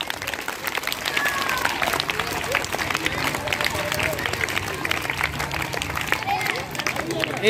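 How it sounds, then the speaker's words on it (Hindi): Children clap together loudly at a school prayer assembly after a close contest, a dense, sustained patter of many small hands continuing for several seconds amid background chatter. "ताली बजाओ जरा जोर से"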